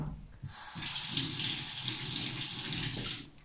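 Cookware is rinsed under a running kitchen tap while baking cookies, a steady close gush of water splashing into a sink for a few seconds, starting and ending abruptly.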